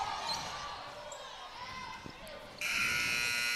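A game-ending buzzer sounds at a high school basketball game between Greenfield and West Carroll, cutting in loud and steady near the end over gym noise and crowd chatter.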